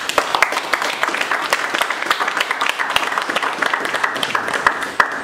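A wedding crowd applauds steadily for several seconds, many hands clapping in a dense, continuous patter.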